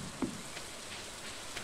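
Steady light rainfall from the video game Stardew Valley, a faint continuous hiss with a soft thump near the start and scattered drop sounds.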